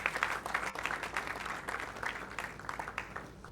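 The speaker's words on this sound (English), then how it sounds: "let's give the mentor for all of us a round of applause" Audience applause for Dr. Stephen Akintayo at his 40th birthday celebration, a steady patter of many hands clapping at moderate distance, sustained without a break and with no voices over it.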